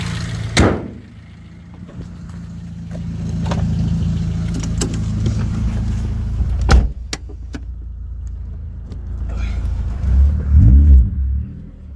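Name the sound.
XRS car with bolt-on modifications being driven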